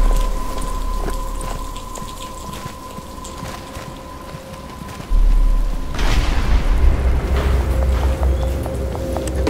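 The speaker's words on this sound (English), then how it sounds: "But it's starting to rain." Steady rain patters in Batman: Arkham Asylum, then a deep rumble of thunder rolls in and continues beneath the rain.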